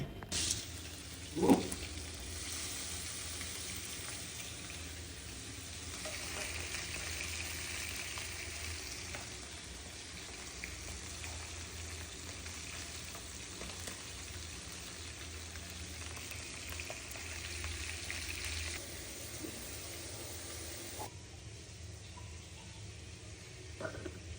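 Masala-marinated hilsa fish fries in a pan with a steady, fairly faint sizzling hiss that runs throughout, broken by an occasional light clink near the start.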